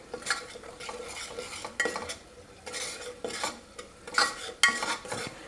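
Kolhapuri chutney and Kashmiri chili powder sautéing in oil with onions, a spoon scraping and stirring the pan in irregular bursts over a soft background sizzle, close and moderately loud.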